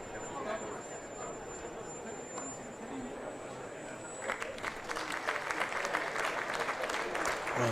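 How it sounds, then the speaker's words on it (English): A Glamorgan home crowd at a Twenty20 Vitality Blast match against Gloucestershire bursts into broad applause for a dot ball; the clapping swells in about halfway through over a low stadium murmur and holds steady to the end. "Every dot ball is being applauded."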